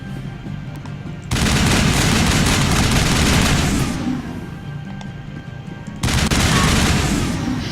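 Rapid automatic gunfire from a weapon in the Mass Effect video game, loud sustained bursts with a short lull between them.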